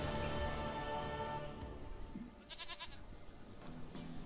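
In The Witcher 3, a goat bleats in short, faint wavering bursts amid quiet ambient game sound, with a brief louder high tone at the start.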